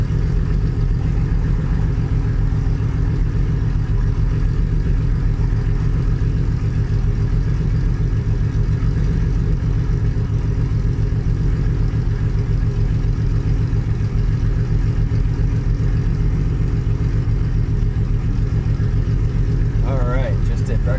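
A car engine runs at a cars and coffee meet as a loud, steady idling drone that holds at one level for the whole stretch, with faint voices in the background.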